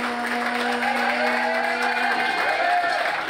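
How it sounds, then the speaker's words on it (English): Crowd at a hip hop event in a DC house venue applauding and cheering for the hosts, steady dense clapping with whoops and crowd noise throughout, loud and continuous. "So I need y'all to start clapping right now for our hosts, Nina Queen and Princess Bell."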